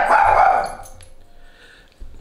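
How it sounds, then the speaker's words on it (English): An agitated house dog barks at another dog outside, a loud close burst of barking that fades to quiet whimpering and ends with one short yip. "There's a dog out in the open space and Rocket is not at all pleased."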